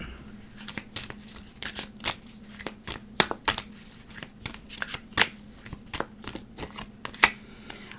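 Tarot cards being shuffled by hand, with a close, rapid series of crisp riffling clicks and flutters running throughout.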